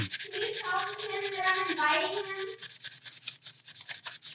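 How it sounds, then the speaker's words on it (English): Rapid, rhythmic scratchy strokes of hand sanding a quarter-scale Deadpool model close by, with a faint voice murmuring underneath partway through. "this is just sanding"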